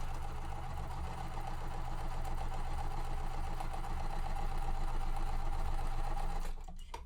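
A sewing machine runs steadily with a dense, fast mechanical whir for several seconds, then stops abruptly near the end.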